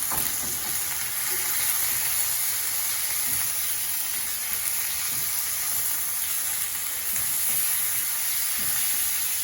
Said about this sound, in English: I'm going to fry to make sure it goes on a low heat.